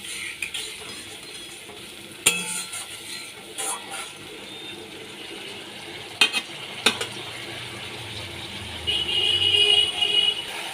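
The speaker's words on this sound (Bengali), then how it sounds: "ভালো করে কষিয়ে নিচ্ছি" Bhola fish in mustard paste is stir-fried in a pan with a little water, heard as a low simmering sizzle broken by sharp clanks and scrapes of a spatula, the sizzle swelling near the end.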